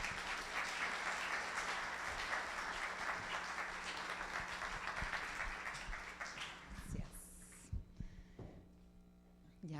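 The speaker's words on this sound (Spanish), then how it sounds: "Recibamos con un gran aplauso a la arquitecta Marta Macaglia." An audience at a women's architecture conference closing session applauds an architect as she is introduced, steady dense clapping fading out over the final seconds with a few scattered claps.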